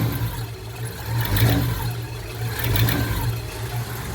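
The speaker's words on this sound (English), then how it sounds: "Okay, give a little gas, Sarah." A 1951 Mercury flathead V8, still cold on the choke, runs up in steady, close revs with a low rumbling drone that swells twice, loud and alone without talk.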